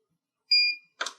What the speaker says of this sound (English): No hold is indicated by one beep, like so.